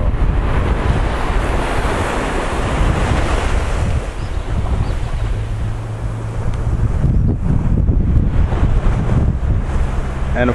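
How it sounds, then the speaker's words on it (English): Ocean surf rolling onto Darkwood Beach in Antigua, a loud, continuous wash of breaking waves mixed with heavy wind buffeting the microphone, swelling and easing without pause. "This is the beach that I actually learned how to swim in as a child."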